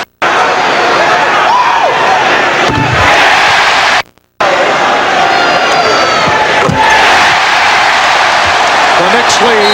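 A loud basketball arena crowd roars and cheers during a 1994 Knicks playoff game, a dense wall of noise with a brief drop out midway, while a commentator's voice is mixed in.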